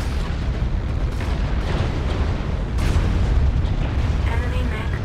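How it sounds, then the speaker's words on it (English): An enemy mech blows up in the video game MechWarrior Online, a dense sustained rumble of explosions and booming blasts with heavy low-end roar throughout. "Enemy mech destroyed."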